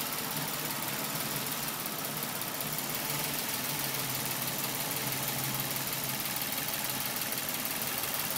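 A car engine idles with a steady, fairly loud mechanical drone and a fast ticking running through it, a fault with no leaks, continuing unbroken throughout.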